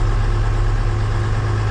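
A used tractor's engine idles steadily up close, a constant low, heavy rumble with no change in pace and no voices.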